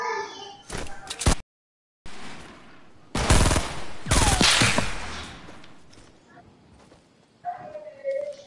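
Machine gun fire in an online shooter game, short sharp bursts of rapid shots with a brief silent gap, heard alongside players talking.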